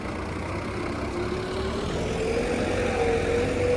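Tractor engine, Holland or Swaraj, running steadily in a farm field, a close, continuous low rumble with a faint rising whine toward the end and no talk.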